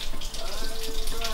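Tap water running into a sink while hands are washed, a steady close splashing stream under a voice talking.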